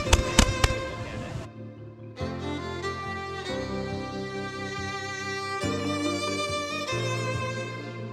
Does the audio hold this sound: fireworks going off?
yes